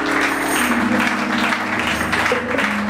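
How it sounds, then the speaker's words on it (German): Audience applause at a club band performance, crowd clapping blended with music playing underneath, steady and fairly loud throughout. "Applaus, Applaus, Applaus."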